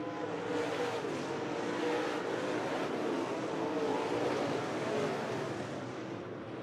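Sprint car engines roar around a dirt oval at a Tri-State Speedway race, a dense, continuous high-pitched drone at moderate distance, swelling and fading slightly as cars pass.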